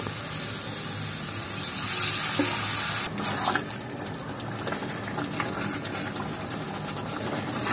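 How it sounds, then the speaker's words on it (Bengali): Water added to a pan of frying spice masala, giving a steady loud sizzling hiss with bubbling that settles a little after a few seconds, close up and without talk. "তো আমার মশলা ফ্রাই হয়ে গেছে, এতে আমি জলটাও অ্যাড করে দেবো।"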